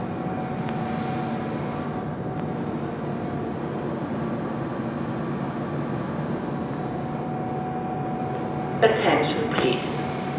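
A Railjet train pulls into the main station at Villach, Austria. A steady, loud rumble with a faint tonal hum fills the platform throughout, and a few brief, sharper bursts come near the end.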